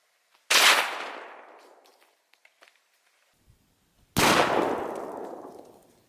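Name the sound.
rifle shot, .223 55 grain Ballistic Silvertip hitting cantaloupe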